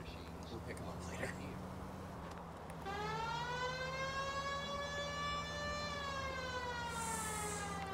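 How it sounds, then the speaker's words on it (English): A police siren wails in the video game L.A. Vice, starting abruptly and sweeping up then holding a loud, steady tone, with engine hum underneath. "I fucking hate the siren."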